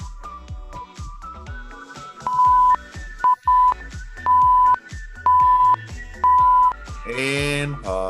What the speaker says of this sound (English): Beeps let you know when we got 5 more to go.